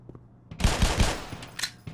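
A quick cluster of loud revolver shots in the game Black Mesa, three or four heavy reports fired in fast succession and followed by a brief ringing tail.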